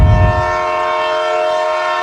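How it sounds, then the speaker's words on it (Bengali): A red and green train slowly pulls into Kamalapur station at platform 5, opening with a loud low rumble and blaring horn, then a sustained tonal horn over fading rolling noise. "ঝমঝম শব্দে ধীরগতিতে একটা লাল সবুজ ট্রেন এসে থামে।"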